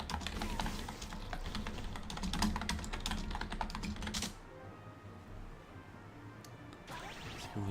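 Rapid clicking taps of typing on a computer keyboard run steadily for several seconds, pause in a quieter stretch, then resume near the end.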